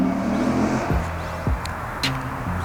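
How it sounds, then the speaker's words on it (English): A Mallett supercharged Chevy Colorado ZR2 pickup revs and accelerates with a throaty exhaust note, with a couple of sharp surges and whooshes of intake air. "you're hearing that air when you accelerate, you're hearing it in the exhaust"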